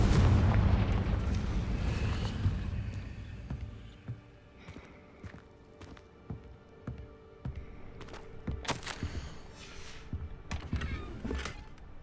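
A Confringo spell explosion in the Hogwarts Legacy video game gives a loud, heavy boom that decays over several seconds. Scattered lighter cracks and thuds of in-game effects follow.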